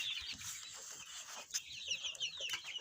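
Brown layer chickens about five weeks old on a poultry farm cluck and chirp continuously, a steady flock chatter of high, busy calls at moderate distance with no voices.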